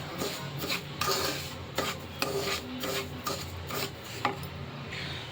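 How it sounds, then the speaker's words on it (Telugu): Semolina (rava) is fried in ghee over low heat and stirred in a pan, giving repeated scraping, rasping strokes at an uneven rhythm, close and moderately loud, with no voices. "ఈ నెయ్యిలోనే మనం కొంచెం ఫ్రై చేసుకోవాలి ఈ రవ్వని."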